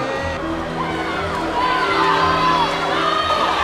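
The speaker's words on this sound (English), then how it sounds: "Shiloh is overwhelmed by the crowds and the noise of the competition" Crowd noise fills an indoor children's swim meet, a steady roar of chatter, whoops and children's shouts with a few higher calls rising above it, loud and continuous throughout.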